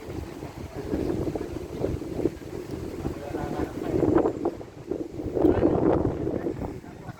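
Steady wind rushes and buffets the microphone outdoors on a cold morning near Kuwait Tower in Kuwait, with low rumbling gusts swelling louder toward the end as someone speaks over it.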